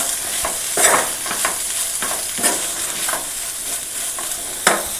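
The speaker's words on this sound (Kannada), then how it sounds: "ಇವಾಗ ಇದಕ್ಕೆ ಕಾಯಿ ತುರಿನ ಆ್ಯಡ್ ಮಾಡ್ತಾ ಇದ್ದೀನಿ ಇದನ್ನು ಕೂಡ ಒಂದು ಇಪ್ಪತ್ತು ಸೆಕೆಂಡ್ ಫ್ರೈ ಮಾಡ್ಕೊಳ್ಳಿ ನೀಟಾಗಿ ಲೋ ಫ್ಲೇಮಲ್ಲಿ ಇಟ್ಬಿಟ್ಟು" Grated coconut fried in a pan over a low flame, with a soft continuous sizzle broken by repeated scraping stir strokes from a spatula at an uneven rhythm, close up and with no voice.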